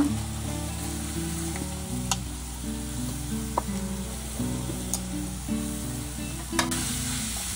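Onions and carrots fry in a pan for an egg palya, a strong steady sizzle with a low background hum, punctuated by sharp stirring clinks of a spoon against metal.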